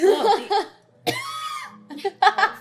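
A short, harsh cough from smoky air bursts out between stretches of people talking and laughing close by.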